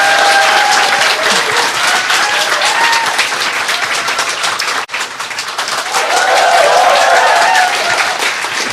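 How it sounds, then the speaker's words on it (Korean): A studio audience on a Korean political talk show bursts into loud, dense applause that carries on with a brief dip midway before swelling again. "여기까지 하겠습니다. 박수 네,"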